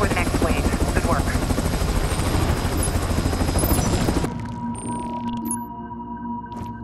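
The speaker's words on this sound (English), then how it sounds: "I'm sending a chopper to pull you out." A helicopter arrives in the stealth video game Splinter Cell Blacklist, its loud, steady rotor roar filling the first four seconds, then dropping away to a quieter hum with faint electronic tones.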